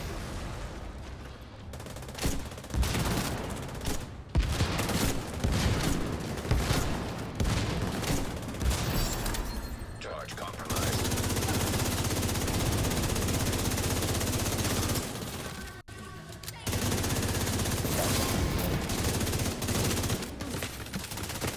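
Sustained rapid gunfire in an open-world shooter video game, dense bursts of automatic shots with booms, continuing loudly for about twenty seconds with brief pauses.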